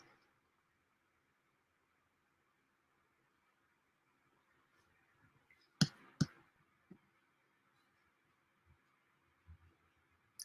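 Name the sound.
computer mouse clicking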